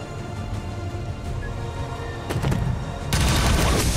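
Dense gunfire from a modded XCOM 2: War of the Chosen tactical battle, a steady rumble that swells near the midpoint and turns into a louder, fuller barrage over the final second, with no talking.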